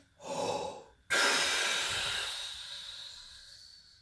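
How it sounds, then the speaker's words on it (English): A long, forceful exhale pushes every remaining bit of air out during a warm-up breathing exercise. A softer breath in comes first, then a sudden loud, hissing rush of air that slowly fades over about three seconds, close to the mic. "So you want to push every remaining bit of air out."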